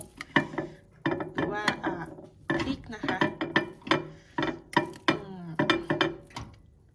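Sticky rice cooked in a microwave is stirred in its dish, giving repeated clinking, scraping knocks of utensil on container in a steady rhythm, close up, while someone talks over it.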